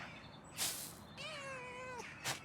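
A cat meows when petted in the video game Pentiment, one drawn-out, rising-and-falling meow between short bursts of noise, fairly quiet and with no talk over it.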